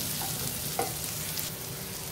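Vegetables sautéing with a pinch of salt in a pan for egg noodles, a soft steady sizzle with faint stirring scrapes, quiet and continuous.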